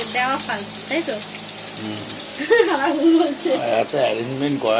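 Eggplant and pumpkin fry in a wok, a steady sizzle running beneath near, continuous talking.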